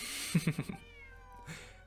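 A cat meows in short, quick pulses near the start, then gives a single softer meow about a second later, close and clear against a quiet background.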